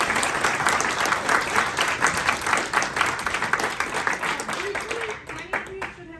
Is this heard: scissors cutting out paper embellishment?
no